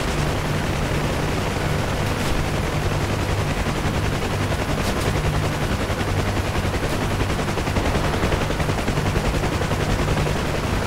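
Continuous rattling gunfire in the DCS Huey helicopter game, dense and unbroken over a heavy rotor-like drone for the whole stretch, with no talking.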